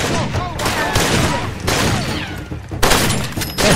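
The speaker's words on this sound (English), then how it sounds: "They're shotguns." Shotgun fire in the video game Far Cry 2: a rapid string of loud, close blasts and crackling bursts filling the whole stretch, with a voice talking over them.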